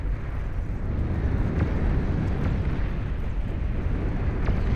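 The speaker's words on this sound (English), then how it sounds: "EMP missile is used" An EMP missile launch in a Beyond All Reason battle: a loud, sustained roaring rumble, dense and steady throughout, with faint crackles riding on top.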